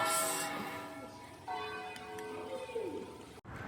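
Church bells ring softly in the distance, their long tones overlapping and hanging in the air over faint background noise.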